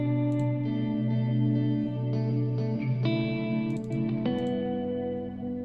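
Clean electric guitar playing root and third dyads, a Jazzmaster tone from a Kemper profile with compression and a light reverb tail, sustained chords ringing steadily and changing every second or so, close and alone.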